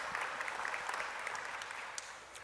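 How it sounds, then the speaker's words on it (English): Soft, steady applause from a seated audience at an online student panel on international student issues, with a brief louder burst of claps near the end. "Please give him a round of applause."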